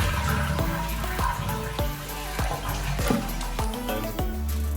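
Water drains and drips from a dual-flush toilet tank with hard-water buildup, a steady gurgling trickle punctuated by regular drip-like pulses close by, with no talk.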